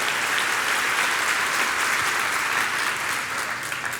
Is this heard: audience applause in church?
yes